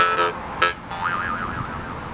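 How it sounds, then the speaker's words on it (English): A jaw harp, or trump, played as a Celtic instrument, giving a twangy buzzing tone with a couple of quick plucked attacks followed by a wavering, warbling drone, close and fairly loud with no voices. "And that's the trump or jaw harp."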